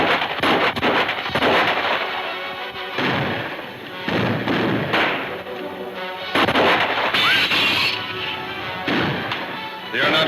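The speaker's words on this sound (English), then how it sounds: "Shoot over the heads first." Gunfire rings out in a western film scene, a dense run of loud, repeated shots and blasts over about ten seconds with no pauses, sounding close and reverberant.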